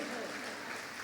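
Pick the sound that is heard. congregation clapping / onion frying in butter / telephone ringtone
congregation clapping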